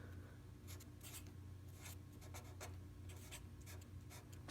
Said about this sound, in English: So grab a Sharpie, and you wanna write your name clearly